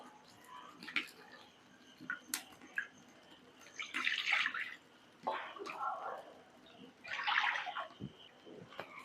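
Water poured from a bowl into a wok on a stove, about one and a half bowlfuls for a semolina snack, lands in a few close splashing bursts, the longest near the end.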